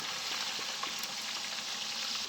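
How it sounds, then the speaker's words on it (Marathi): Onion paste frying in hot oil after ginger, garlic and cumin, a dense, continuous close sizzle and spatter with no talk. "आता टाकायची कांद्याची पेस्ट"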